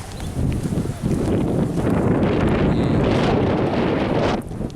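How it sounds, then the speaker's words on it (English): Strong gusting wind at a wetland park in Brisbane buffeting the microphone with a loud, steady roar that drops off abruptly at the end. "And it's very windy."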